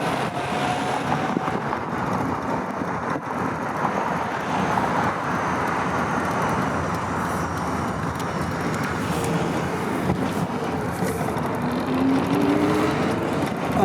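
A Triumph TR6 converted to electric drive cruises in second gear, giving a steady broadband road and drivetrain rumble with a faint whine, heard from inside the car without talk.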